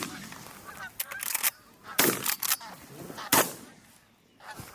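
Geese honk loudly and repeatedly during a goose hunt, coming in bursts of overlapping calls at close range, with a few sharp bangs among them.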